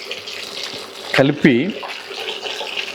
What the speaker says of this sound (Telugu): ఈ ఫస్ట్ వేసినటువంటి వాయిని మళ్ళా ఆయిల్లో వేస్తున్నానండి.